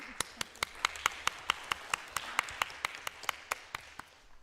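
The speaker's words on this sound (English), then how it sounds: "I would like to give you a round of applause" Applause at a city commission workshop in Lynn Haven comes as a steady run of distinct, fairly evenly spaced claps, moderately close, sounding like a small group or a single pair of hands rather than a large crowd.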